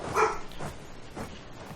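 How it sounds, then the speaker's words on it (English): A pet dog barks in the background indoors: one sharper bark followed by a couple of softer yips, moderately distant, over a low room hum. "my dog barked in the background"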